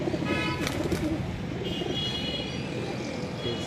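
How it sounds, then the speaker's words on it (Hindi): Pigeons coo softly at a pigeon club loft in Dera Ghazi Khan, several soft overlapping calls over a low background hum, with faint distant chirps. "ये सारे कबूतर दिखा रहे हैं।"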